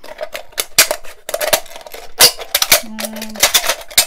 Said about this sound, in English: go ahead and put your scissors in and cut